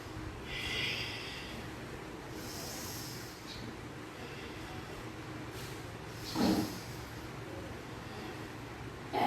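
Deep breathing in a downward dog yoga pose, slow airy inhales and exhales over a steady background hiss, one breath rising louder midway, with no talking.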